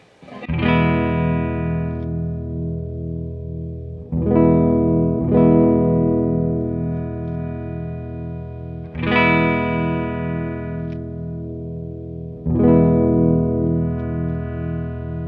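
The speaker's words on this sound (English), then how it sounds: "Now it's going to cut the treble as I turn it down." An electric guitar with its tone knob rolled down to cut the treble strums a handful of sustained chords at steady intervals, each ringing long with a mellow, bassy tone, close and without talking.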